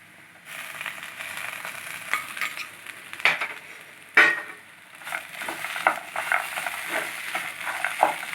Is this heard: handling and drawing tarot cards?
no